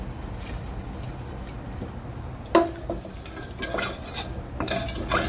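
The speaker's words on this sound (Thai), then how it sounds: "แต่นี่ล้างกระทะ" Clattering of a wok being scrubbed and rinsed, with scraping, knocks and splashy water bursts over a steady low background hum.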